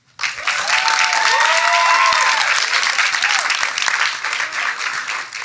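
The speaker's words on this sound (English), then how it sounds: "please give yourselves a beautiful round of applause" A symposium audience breaks into loud sustained applause that starts abruptly and stays full and even, with a few faint whistles or cheers rising through the clapping.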